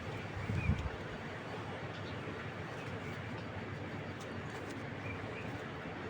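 A black checker male racing pigeon gives a single brief, low coo near the start, heard against a steady background hiss.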